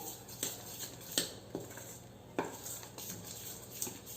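A spoon steadily whisks banana pancake batter in a bowl, making soft rhythmic scrapes and light taps against the side, quiet and close, with no talk.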